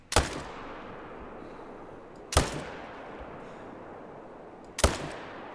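Three loud hunting-rifle shots, each a sharp crack with a long rolling tail, fired at mule deer in The Hunter: Call of the Wild, spaced about two seconds apart with quiet outdoor ambience between them and no talking.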